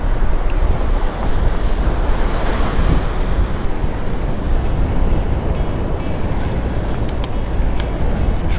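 Ocean waves wash and roll continuously on a Menorca beach, loud and close, with wind buffeting over the surf.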